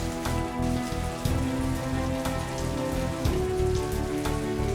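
Heavy summer rain pouring down steadily in a dense, continuous wash, loud and close, with no voices.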